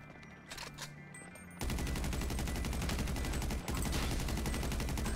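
Rapid automatic gunfire in the GTA V video game, a dense continuous burst of shots that starts abruptly after a quieter opening, briefly pauses, then resumes loud and close.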